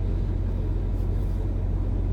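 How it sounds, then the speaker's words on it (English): Truck cab interior while driving down the road, a steady low engine and road rumble filling the whole stretch, no voices. "the dash cam footage of me driving down"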